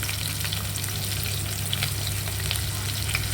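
Chopped onion with hing, cloves, peppercorns and small cardamom frying in hot oil in a pan for masala bhat, a constant close crackling sizzle with faint stirring scrapes, no talk.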